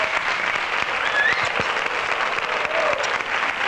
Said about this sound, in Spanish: Y te van a dar un aplauso, que va a llegar el aplauso